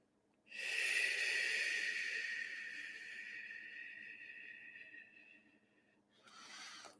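During a guided meditation, a single slow, deep breath is drawn in with an airy hiss and let out gradually, heard close and fairly soft. A shorter breath follows at the end, with no talking.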